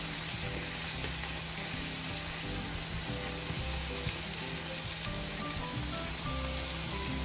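Capers sizzle and crackle steadily in a hot pan as they are stirred, a dense, even frying hiss with small pops, close and continuous with no talking.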